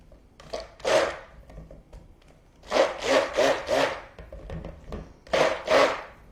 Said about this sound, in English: And I'm just going to mix this in.